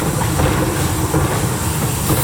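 A Detroit & Lima Northern Railway No. 7 steam train rumbles steadily along the rails approaching Susquehanna station, a loud continuous low roar with faint rhythmic clatter and a hiss on top.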